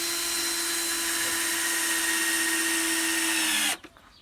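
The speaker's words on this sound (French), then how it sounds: "je vais visser ça" A power drill runs steadily at a high whine while driving screws into recycled pallet wood for a chicken coop, continuous for nearly four seconds before cutting off abruptly.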